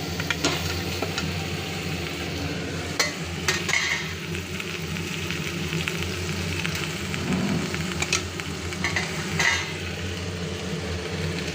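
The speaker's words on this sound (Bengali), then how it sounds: "ভেজে রাখা মাছটা কিন্তু এর মধ্যে আমি ঢেলে দিচ্ছি" Fried hilsa fish poured into onion and poppy seed paste in a hot pan, with steady loud sizzling and occasional sharp clinks of a utensil against the pan.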